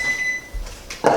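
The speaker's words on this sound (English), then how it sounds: "That was my oven." A kitchen oven gives a faint, steady electronic tone for about half a second, followed by a soft knock and a brief clatter.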